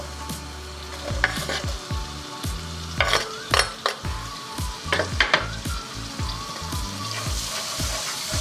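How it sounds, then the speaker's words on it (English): Onions frying in melted butter in a pan for a dhaba-style paneer masala, a steady close sizzle broken by scraping stirs and a few clinks of a utensil against the pan. "So when the butter is melted, you basically want to put the onions in."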